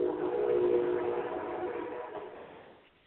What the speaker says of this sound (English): I'm here by a train.